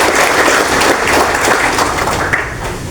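A crowd applauds at a Garut Regency ceremony for village heads whose villages were newly divided. The clapping is loud, even and continuous, then eases slightly toward the end.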